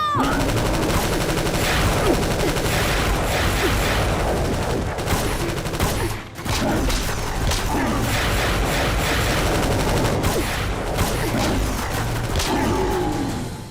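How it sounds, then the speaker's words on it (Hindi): Gunfire from a movie scene keeps up in dense, loud, continuous volleys of rapid shots and booms, pausing only for a moment partway through. "फायरिंग शुरू करो।"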